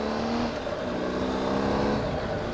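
BMW R1250GS Adventure motorcycle engine pulling away from a stop on a slight slope, a steady, close, loud engine drone that rises gently in pitch.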